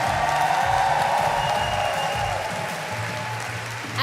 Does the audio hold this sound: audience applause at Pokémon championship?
yes